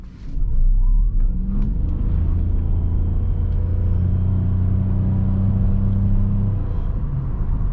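A 2021 Toyota Yaris Hybrid, a 116 hp Sport trim, accelerates in power driving mode. Its engine drone rises quickly and then holds a steady, fairly loud rumble heard from inside the cabin.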